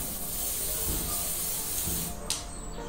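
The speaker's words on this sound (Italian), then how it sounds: "Con la bomboletta spray bianca vado a dargli una spruzzata." A white spray paint can sprays a polymer clay angel in one steady, close hiss lasting a few seconds, ending with a brief final spurt.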